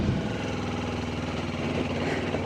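A Kawasaki KLE500 adventure motorcycle idles with a steady, even low rumble and faint mechanical vibration. It holds close and constant throughout, with no voices.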